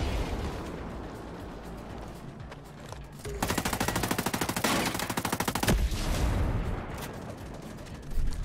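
Sustained automatic machine gun fire in the video game Ghost Recon Breakpoint, a loud rapid burst lasting a couple of seconds amid ongoing game ambience, with scattered shots before and after.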